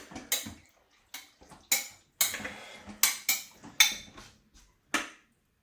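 A spoon clinks and scrapes against the pot of a slow cooker while ingredients are mixed, in a string of sharp, irregular knocks with brief quiet gaps between them.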